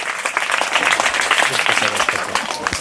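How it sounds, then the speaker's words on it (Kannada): Audience of parents and teachers at a Children's Day school meeting claps for a student's speech, dense, lively applause close by, steady and unbroken for the whole stretch. "ಜೋರಾದ ಚಪ್ಪಾಳೆ ಮೂಲಕ ಅಭಿನಂದನೆಗಳು"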